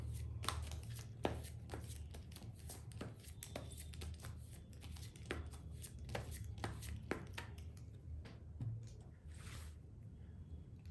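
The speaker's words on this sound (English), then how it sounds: "you could just think about your person while I shuffle the cards for you." Tarot cards being shuffled by hand, soft papery riffles and taps repeating steadily at close range with a faint background hum.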